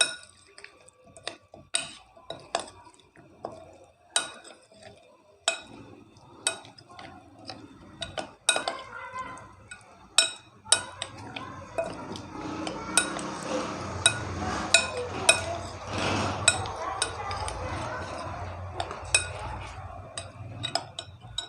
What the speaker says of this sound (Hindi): बिल्कुल थोड़ा सा सब चीज़ों को मिक्स कर देंगे।